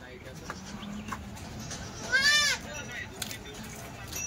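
A single short bleat from a Kathiawari goat rises out of steady background noise midway through, with a faint murmur of activity around it.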